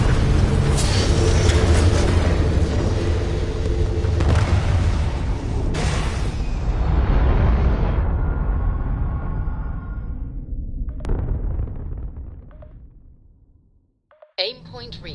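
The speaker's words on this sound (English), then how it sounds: "All thrusters firing." Spaceship thrusters fire for takeoff in Starfield, a loud, broad roaring rumble that holds steady for several seconds, then thins and fades almost to silence before a brief final burst.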